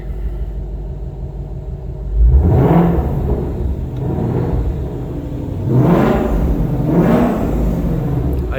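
Deep, loud exhaust blips from a 2021 Ford Shelby GT500 set to track mode: three sharp revs rise over a rumbling idle, close by, with no talking.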